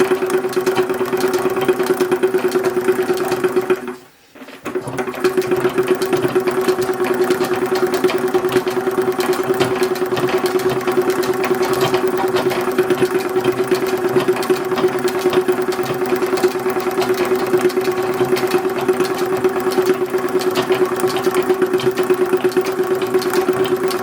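A sewing machine drones close and loud while sewing a seam on 1870s-style ladies' drawers, running continuously with a steady mechanical hum and only one brief stop near four seconds.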